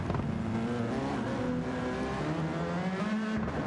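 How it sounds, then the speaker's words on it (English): A race car engine in a sim racing game during a 24-hour endurance event on the Nürburgring Nordschleife, droning steadily and loud with a sustained revving tone that slowly shifts pitch, alone and without talk. "That's a very lovely sound of that car"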